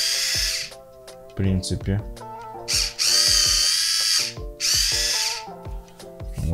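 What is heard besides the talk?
Xiaomi Circle Joy electric wine opener motor running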